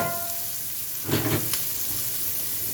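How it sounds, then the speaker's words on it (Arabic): Tomatoes sautéing in a baking tray for a meatless moussaka: a steady, close sizzle and hiss with a brief burst of louder crackling as they are stirred. "هسبك الطماطم بتاعتها فيها بالمره"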